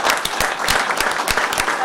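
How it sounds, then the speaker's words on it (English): Audience clapping for an honoree at a county freeholders' meeting, a steady patter of many hands with distinct sharp claps standing out, moderately loud and continuous with no talk over it. "You guys can clap for him."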